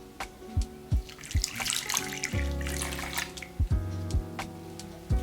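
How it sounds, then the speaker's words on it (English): Cold water poured from a tap into a bowl of unflavored gelatin while making sour gumdrops, a running splash and trickle with several sharp drips and knocks, fairly close and quiet. "Now we're going to add our cold water."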